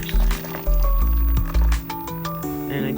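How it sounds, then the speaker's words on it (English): Roux sauce pours from a pot into containers with wet, glugging squishes and splattering drips in a few bursts, close by and moderately loud. "I go ahead and I pour it into the containers."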